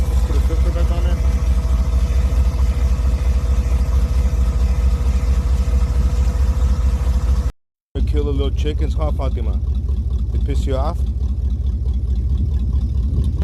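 A truck engine idles after an oil change with heavier oil, a steady low rumbling drone that runs throughout, briefly cut off before resuming, while people talk over it.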